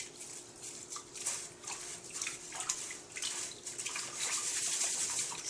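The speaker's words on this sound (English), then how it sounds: "So you just rinse." Tap water runs and splashes while rice is rinsed by hand, a faint, steady hiss of flowing water with small patters and swishes throughout and no talking.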